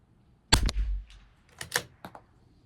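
A CZ 457 LRP rifle firing CCI Standard Velocity ammunition at a 100-yard range lets off one sharp, close crack, followed a second later by a short run of quieter clicks and knocks.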